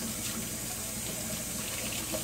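Tap water runs steadily into a sink while makeup brushes are rinsed, a continuous close splashing flow with no pauses and no talk.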